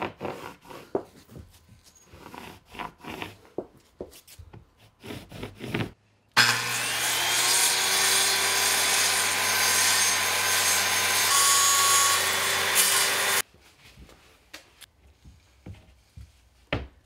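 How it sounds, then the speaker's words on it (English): A power saw cuts a small hump out of a plywood sheet in a garage, a loud continuous whining buzz lasting about seven seconds, with quieter handling clatter before and after. "So I think I'm gonna cut a little hump out of the plywood right there."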